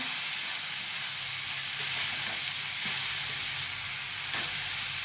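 Onions frying on a high gas flame for Maharashtrian onion chutney, a steady bright sizzle and hiss throughout, close and loud with no talking.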